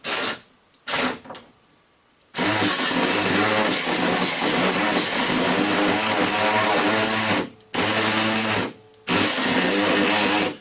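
A cordless power ratchet runs in long, loud, steady whirring bursts with brief stops, straining and half stalling as it drives bolts down tight.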